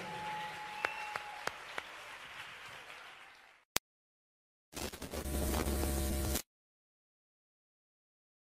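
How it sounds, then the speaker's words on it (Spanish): Audience applause for a singer at a live concert, a broad wash of clapping that fades out, then after a gap a second short loud burst of cheering and clapping before stopping abruptly. "Fuerte aplauso."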